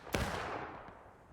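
A single loud gunshot rings out in a battlefield video game and its echo fades over about a second, followed by a faint distant report.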